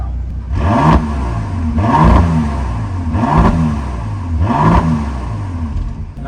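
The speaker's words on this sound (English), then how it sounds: "I will put her in sport. She will open up her exhaust." Bentley Bentayga in sport mode with its exhaust valves open, revved four times in a regular rhythm, each loud rising and falling engine sweep close by with no talk over it.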